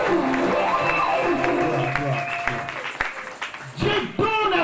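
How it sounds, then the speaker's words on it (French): A church congregation breaks into applause and cheering, a dense wash of clapping and raised voices that swells and dips, with voices calling out throughout. "acclamez pour la gloire de Dieu"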